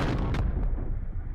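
Light machine gun fire in the Corsair Leader video game, a short burst of loud, booming shots with sharp pops in quick succession, then a fading rumble.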